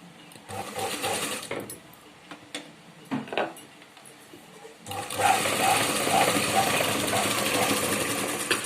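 A sewing machine runs steadily while stitching a blouse lining at the shoulder, its whirring motor starting after some handling noises and continuing close and fairly loud to the end.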